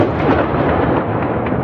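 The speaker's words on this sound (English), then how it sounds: "Huge explosion." A deep, sustained rumble of a large explosion during an attack on the port of Novorossiysk, Russia, rolls on loudly, a heavy low roar without any talking.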